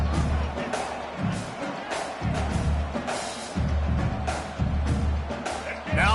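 Football stadium crowd at a Michigan versus Penn State game: a broad, steady roar of many voices with intermittent swells and sharper shouts, underneath a commentator's voice.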